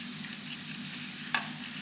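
Four tablespoons of butter melting in a large skillet over medium heat, a quiet low sizzle broken once by a short metallic tap.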